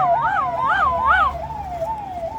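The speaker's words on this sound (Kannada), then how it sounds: "Ambulance, second ambulance." An ambulance siren passes nearby, loud and close, wailing up and down in quick repeated sweeps before settling into a steadier, slightly fading tone.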